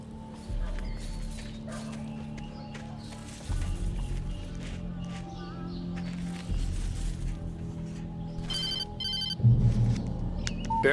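A telephone rings in the horror video game Alan Wake, its trilling bell heard as a short burst late on over a low, rumbling ambient score.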